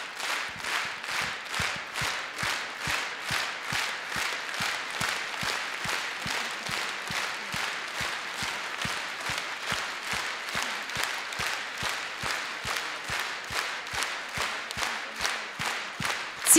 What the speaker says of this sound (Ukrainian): Ці аплодисменти йдуть кожному нашому воїні на війні, на передовій.